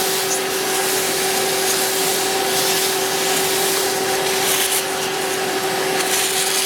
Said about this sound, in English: this ballast is not going to come off using a vacuum